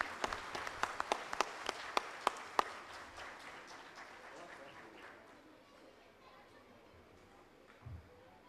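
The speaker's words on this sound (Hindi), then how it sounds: "तालियां तो बनती है।" Audience applause at an honouring ceremony: a few sharp, distinct claps up front swell into a soft, rapid wash of clapping that fades away. It is faint and distant overall, with a small thump near the end.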